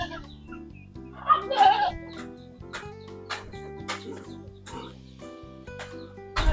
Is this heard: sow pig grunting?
yes